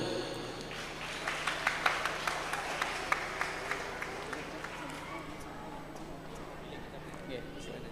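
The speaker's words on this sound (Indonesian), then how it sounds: "Beri tepuk tangan dulu." Scattered hand claps from an audience at a graduation ceremony build into a moderate round of applause, fairly faint and roomy, with a voice speaking faintly underneath.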